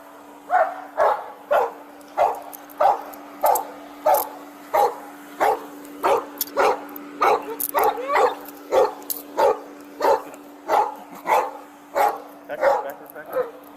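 A dog barks repeatedly in a steady, evenly spaced rhythm, loud and close, each bark a short sharp burst over a constant low electrical hum.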